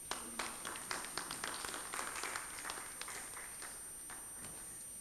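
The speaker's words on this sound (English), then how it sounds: "Let's give him a round of applause once again" A conference audience gives a faint round of applause, a spread of individual claps that is brisker at first and then thins out, heard at low level from a distance.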